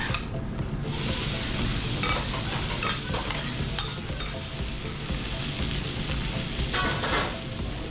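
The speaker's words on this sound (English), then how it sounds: "Hiroshima-style is built on the griddle, layer by delicious layer" Hiroshima-style okonomiyaki sizzling on a griddle, with steady crackling fry and scraping, stirring sounds of a metal spatula, close and continuous with occasional sharper clicks.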